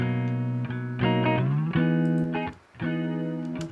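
Electric guitar chords with a shimmering, slightly wavering chorus effect from the Native Instruments Choral plugin, strummed in a few sustained phrases, played alone and up close.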